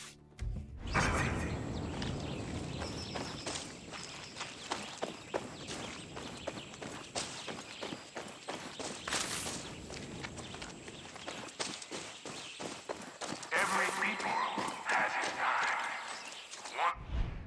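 Horse hooves clip-clop in a steady walking rhythm in the video game Far Cry 6, close and continuous, with game-like ambience and occasional thuds, no talking.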